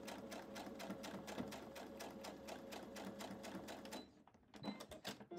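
A sewing machine runs a quarter-inch seam through a scrappy postage-stamp pear quilt block, its rapid steady needle chatter continuing for about four seconds before stopping, followed by a few soft handling clicks.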